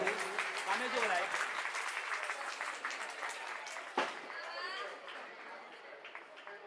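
A crowd at a school farewell and annual function applauds in honour of a retiring teacher, a steady wash of clapping over about six seconds that eases slightly toward the end, with voices talking over it throughout.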